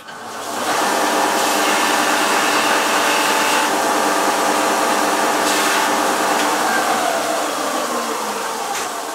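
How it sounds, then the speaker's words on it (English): A large workshop sander in a woodturning shop runs with a loud, steady whirring hiss. It spins up at the start and holds constant, with a few brief contact scrapes. "I'm going over to the main sander over here"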